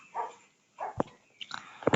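A dog barks in short, sharp bursts in the background of a home, a few close, fairly loud yips and barks with brief whimpering between them, no speech.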